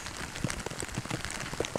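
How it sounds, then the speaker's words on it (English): Rain falls steadily on a road in the California mountains, a dense close patter with scattered sharper drops hitting the surface and no voices. "Rain's just coming down."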